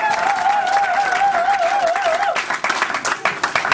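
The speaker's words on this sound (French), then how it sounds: "Est-ce que nous pouvons acclamer pour le Congo?" Applause and cheering break out from a crowd at a Congolese revival church gathering, honoring the Congo, with a sustained clapping roar and a tonal whistle or voice riding over it before the claps grow more scattered.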